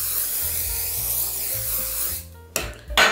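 A hair gloss spray sprays in a steady, close hiss, followed by two short, sharp bursts.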